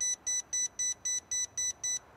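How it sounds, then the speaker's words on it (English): REDARC 52mm dual voltage gauge alarm sounding eight sharp, evenly spaced high-pitched electronic beeps in quick succession, clear and close, with nothing else audible. "It'll only beep for the first few seconds"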